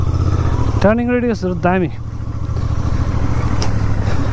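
A Royal Enfield Interceptor Bear 650 motorcycle is ridden with a steady low engine rumble running throughout, while someone talks over it for about a second.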